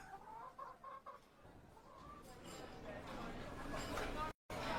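Chickens clucking in a radio-drama farmyard scene, several birds with short repeated clucks in the opening seconds, followed by a steady background bed of noise.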